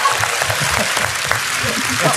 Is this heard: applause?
yes